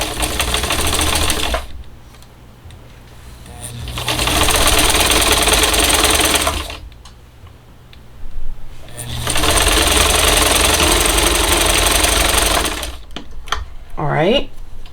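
A sewing machine stitches fabric for country fall bowl fillers in three long, loud runs of rapid whirring, with short pauses between them. A voice speaks during the quiet gaps and near the end.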